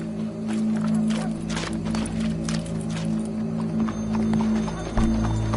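Horse hooves clip-clop in Red Dead Redemption 2, a steady run of close, distinct hoofbeats with a brief whinny-like sound and no talking.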